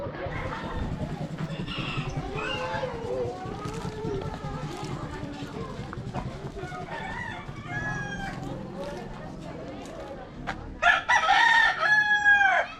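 A rooster crows toward the end, ringing over busy outdoor chatter and background noise in Boracay, Philippines.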